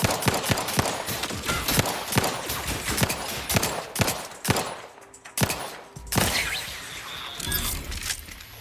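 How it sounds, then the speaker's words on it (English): Enemy gunfire in the Outer Worlds 2 video game: a dense run of sharp, loud shots in rapid bursts with brief pauses, ringing with bright crackling tails and a short lull midway before the firing resumes. "There's a thing up there shooting at me."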